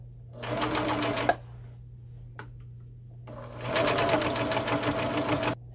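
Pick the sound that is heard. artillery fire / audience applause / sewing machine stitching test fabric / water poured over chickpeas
sewing machine stitching test fabric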